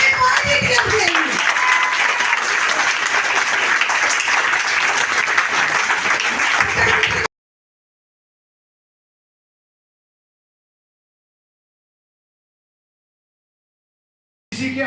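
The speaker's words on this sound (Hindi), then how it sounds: "जबरदस्त ताली आपने पॉजिटिव के लिए।" A crowd at a live gathering breaks into loud, dense applause for several seconds before the sound cuts off abruptly into silence, with a brief return of noise at the very end.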